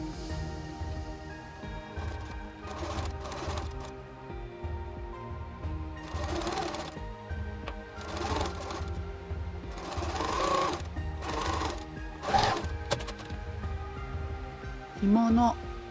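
A sewing machine stitches lace onto an apron about five millimetres from the edge, giving repeated bursts of steady mechanical whirring separated by short pauses, fairly close and moderately loud, with quiet room noise between runs.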